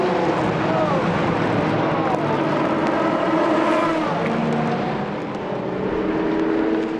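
Endurance prototype race car in the European Le Mans Series at Portimão coming through the final corner to the finish line, a steady engine roar with shifting tones under continuous commentary and crowd ambience.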